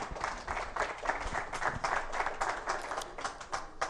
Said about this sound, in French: On peut applaudir pour vous-même